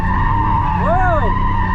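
Loud, close tire squeal from a Toyota MK4 Supra drifting through a banked curve, with a rising and falling screech over a steady engine drone.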